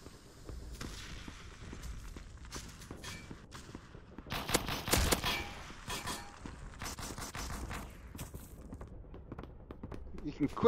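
Gunfire in the VRChat virtual world crackles in scattered quick bursts and single shots, fairly faint, mixed with footsteps and a player's talk.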